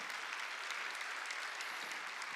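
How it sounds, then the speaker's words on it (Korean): A church congregation applauding during a sermon, dense continuous clapping from many hands that sounds somewhat distant and even throughout, with no talk. "벌써 더 박수 치라고요."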